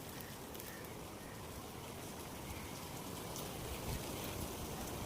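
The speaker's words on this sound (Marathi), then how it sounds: "पाऊस एवढा जोरात चालू आहे" Heavy rain pours down steadily over a village, a dense continuous wash of falling water without pause, close and enveloping, with no voices.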